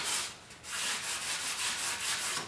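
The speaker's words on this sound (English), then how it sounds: "I'm just scuffing the rest of the grill up here before we paint." Hand sanding with 280-grit sandpaper scuffs a plastic Porsche 911 decklid grill before painting, a steady close rasping rub in even back-and-forth strokes with a brief pause early on.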